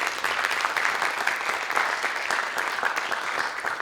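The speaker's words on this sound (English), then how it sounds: "So let's get another round of applause for Elise." A crowd applauds a speaker at a talk on social media and substance abuse, a dense, sustained patter of many hands clapping at a steady level throughout.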